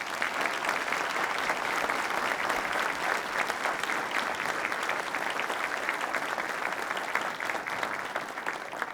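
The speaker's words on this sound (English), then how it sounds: "Will you please join me in giving a round of applause to our panelists?" Sustained, even audience applause for panelists at a public forum, dense clapping holding steady at a constant level throughout.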